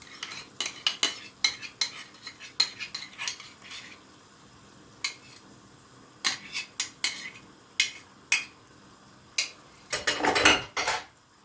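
Chopped onions being stirred in a pan, a spoon knocking and scraping against the metal in a quick irregular series of clinks, close and fairly quiet, with a longer scraping flurry near the end and no talk.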